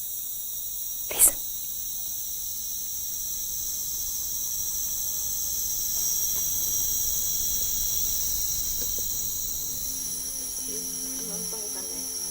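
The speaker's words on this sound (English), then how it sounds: "We are in a rainforest." Dense rainforest ambience in Borneo: steady high-pitched insect and cricket drone fills the air throughout, with one brief sharp sound near the start and faint chirps later.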